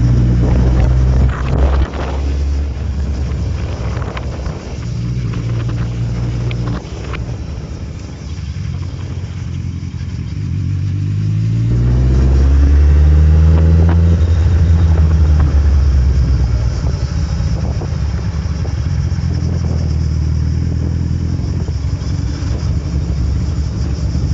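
A Kawasaki Z1000 motorcycle riding toward Vatsa beach on Kefalonia, its engine droning steadily and rising in pitch as it accelerates midway, with heavy wind buffeting across the whole ride and no talk.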